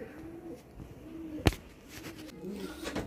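Pigeons coo softly in a loft of young birds, with low repeated coos spread across the clip and one sharp loud knock or flap in the middle; faint background room noise.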